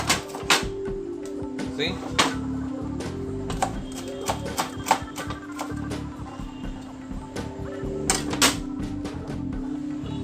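Knife chopping vegetables into julienne strips for spring rolls, rapid irregular sharp taps against a cutting board over a steady background hum, with a brief spoken word.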